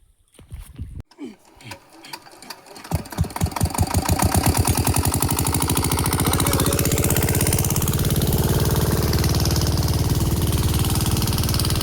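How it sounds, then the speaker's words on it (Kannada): A farm water pump engine starts with several uneven cranking chugs, catches, then settles into a loud, steady rapid thumping idle heard close up. "ಈಗ ಇಂಜನ್ ಚಾಲು ಮಾಡ್ತೇವ್ರಿ ಹೋಗಿ"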